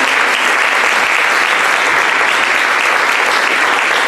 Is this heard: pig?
no